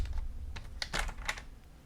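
A paper trimmer slices an inch off the end of a six-inch piece of cardstock, making a few quick scraping, clicking blade strokes close up and alone, with no voice.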